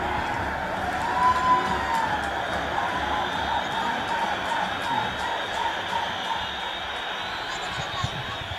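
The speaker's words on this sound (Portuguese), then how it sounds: "É a torcida do Guarani inflamada aqui com essa vitória de 5-1" Guarani football supporters cheering a 5-1 win, a steady loud crowd roar from the stands running through the whole stretch, with a commentator talking over it.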